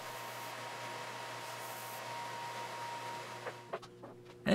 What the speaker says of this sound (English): Then I put on a small chamfer onto the bottom edges over at the belt sander.